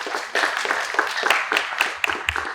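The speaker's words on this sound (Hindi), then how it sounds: "तालियों से स्वागत करें" An audience at a technical building-solutions presentation gives steady, dense clapping to welcome the speaker, with no talking heard.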